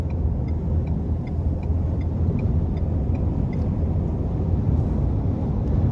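A Ford F-150 XLT with the 2.7-litre twin-turbo engine cruises on an interstate, a steady close rumble of road and engine noise with wind roar throughout.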